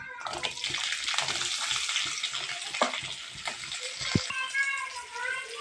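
Onion frying in hot oil with fennel and mustard seeds in a pan, a dense continuous sizzle and hiss heard close, with brief knocks of stirring and a faint voice underneath.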